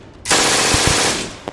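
A medium machine gun sound effect fires a single loud sustained burst of rapid shots lasting about a second, close and harsh, then cuts off with a brief tail.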